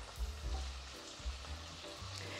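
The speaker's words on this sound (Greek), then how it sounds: "να τηγανιστούν από τη μία μεριά και να τις γυρίσουμε μετά" Two sausages fry in a pan with a soft, steady sizzle and occasional small pops and bumps, quiet and close with no talking.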